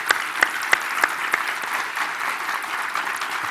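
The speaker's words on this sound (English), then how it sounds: "So how about a round of applause for Ben Davies?" Audience at a university talk by Ben Davies on national security gives a round of applause. A few loud, distinct claps at the start merge into a steady, moderate patter of clapping.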